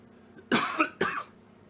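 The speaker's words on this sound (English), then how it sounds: "Sometimes I want to cough a little bit" Two short, harsh coughs close to the mic, one right after the other, in an otherwise quiet space.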